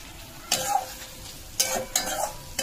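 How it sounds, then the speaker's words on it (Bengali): Coriander leaves sautéed with a paneer curry in a pan, a low sizzle broken by several quick scraping stir strokes and utensil clinks against the pan, close and without speech. "এটা কষবো ধনে পাতাটা দিয়ে"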